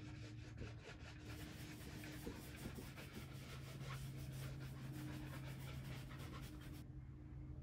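Oil paint brush making crisscross strokes on canvas for a winter landscape, a soft steady scrubbing rub with rapid back-and-forth rhythm, faint and close.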